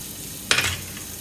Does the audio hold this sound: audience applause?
no